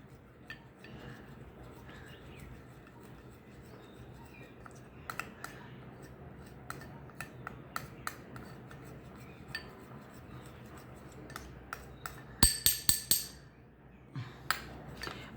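A homemade face remedy of lemon and rice flour stirred in a bowl gives soft, irregular scraping and ticking from a spoon against the bowl, ending in a few sharper clinks near the end.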